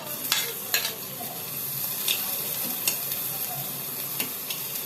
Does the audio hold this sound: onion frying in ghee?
yes